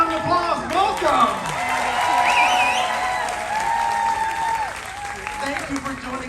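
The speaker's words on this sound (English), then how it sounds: "Let's give them a round of applause." An audience applauds aboard the Discovery Princess cruise ship as the captain, a bartender and the cruise director are introduced. The clapping is steady and moderately loud, with cheering and voices mixed in, and a presenter talks over it throughout.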